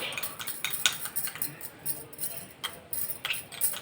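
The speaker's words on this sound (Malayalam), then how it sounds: "നമ്മുടെ അലോവേര ജെല്ലിനകത്ത് നന്നായിട്ട് മിക്സ് ചെയ്യണം" Aloe vera gel being mixed with a little milk: quick clinking taps of a spoon against a small bowl, scattered and uneven across a few seconds, close and fairly faint.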